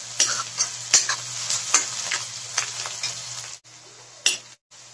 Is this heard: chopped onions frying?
yes